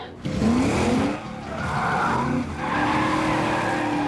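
Tires squealing as a car skids through 180 and 360 spins on a riverbed during a film stunt for Gone in 60 Seconds; loud, close, rising and falling screeches over engine noise in several sustained bursts.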